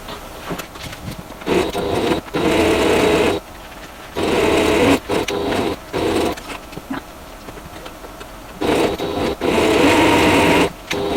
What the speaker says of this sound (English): So I'm going to go ahead and sew down my top seam